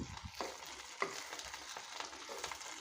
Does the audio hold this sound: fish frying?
yes